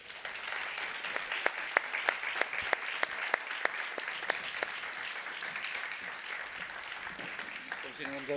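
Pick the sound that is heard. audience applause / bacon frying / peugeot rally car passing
audience applause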